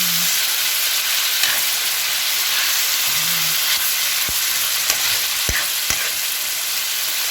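Loud, continuous sizzling of food frying in a pan, with a few sharp clicks and taps of utensils against the pan.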